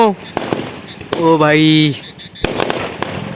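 Firecrackers set off near a home, heard as sharp broadband bangs, including one loud crack near the end, while people talk and exclaim close by.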